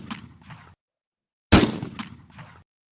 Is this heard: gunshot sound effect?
yes